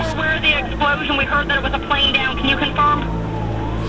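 Emergency vehicles, ambulances, fire crews and police, responding to an explosion, with wailing sirens rising and falling repeatedly under a voice speaking throughout.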